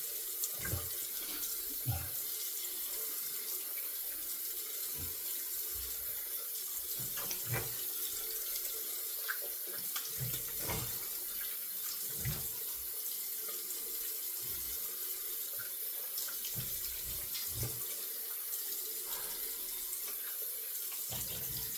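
Tap water runs steadily from a faucet into a sink to rinse a Razorock Daily DOC safety razor, a continuous close splashing flow with no talking.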